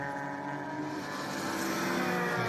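V12 and V8 sports and GT race cars on the final lap at Kyalami Grand Prix Circuit give a steady, fairly distant engine drone that swells slightly louder toward the end.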